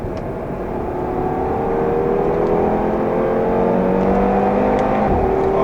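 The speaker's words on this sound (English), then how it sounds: "To experience some of this, I'm going to drive the car on the racetrack." A 2018 Audi TT RS or RS3 accelerates hard on a racetrack, its engine note climbing steadily in pitch through the rev range, loud and close with a droning harmonic tone and no talking.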